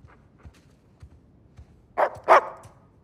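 A puppy in Uncharted 4: A Thief's End barks twice in quick succession, sharp and close, after a few soft footsteps and quiet ambient game sounds.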